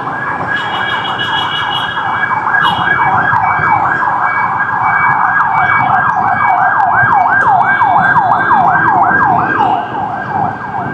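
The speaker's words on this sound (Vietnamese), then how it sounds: "Xe cấp cứu." A loud ambulance siren wails in a fast, continuous rising-and-falling yelp, close by, over the rumble of road traffic.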